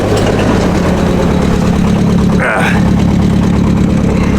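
A Nissan 30 forklift engine idles steadily with a low, constant rumble and harmonic drone, loud and close throughout, with a brief higher hiss or rev near the middle.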